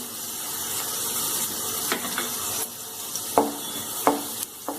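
Cumin seeds with garlic crackle and sizzle in hot oil in a pan, a continuous close frying hiss punctuated by several sharp clinks of a spoon against the pan.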